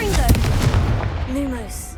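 A Confringo blasting curse bursts in Hogwarts Legacy with one sharp, loud explosive crack near the start, followed by rumbling spell effects and a voice.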